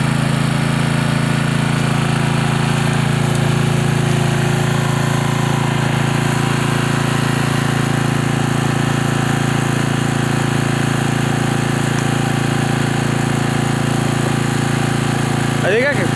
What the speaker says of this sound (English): looking for worms with a generator and some